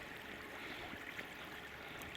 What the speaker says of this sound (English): The water comes down and breaks over these gravel beds.